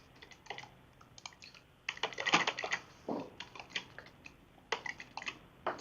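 Computer keyboard typing while renaming an item in planetary gear modelling software, a quiet run of quick irregular key taps in bursts, close and alone with no talk.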